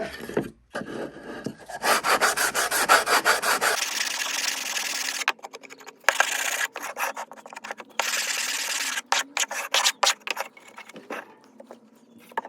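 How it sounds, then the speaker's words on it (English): Hand sanding on a wooden box ukulele with a sanding block, leveling the kerf with the sides, rough rasping strokes in bursts, steady at first then choppy and intermittent, close by with no talking. "I'm going to do some quick sanding with a sanding block"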